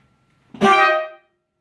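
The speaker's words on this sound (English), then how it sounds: "There's no tank or anything, just a air pump, and it feeds the horns." A single loud air horn blast, about half a second long, bright and brassy with a harsh tone, sounding alone; the horns are fed directly by an air pump with no tank.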